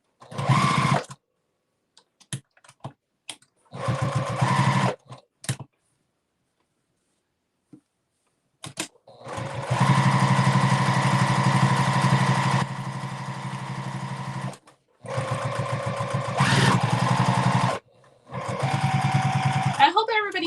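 Brother VE-2200 embroidery machine stitching in bursts, a close rapid mechanical whirring that starts and stops several times, with longer runs later and quiet gaps between, as a person talks nearby.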